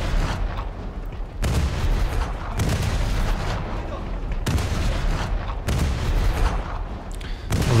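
A cruiser in a naval video game fires its main guns in heavy salvos, a series of about five loud booming blasts with rumbling tails between them, over continuous battle noise.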